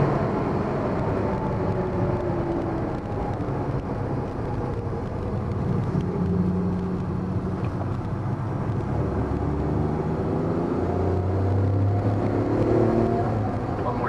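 A 1989 Honda Acty AWD kei mini van cruises at 55 mph, filling the cabin with a loud, steady drone of engine and road roar that barely changes throughout, with no talking.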